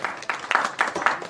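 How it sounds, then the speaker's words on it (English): An audience claps at a kids' mobile application and ambassador launch event, a short burst of scattered, moderately loud applause with uneven hand claps. "I want to see everybody clap"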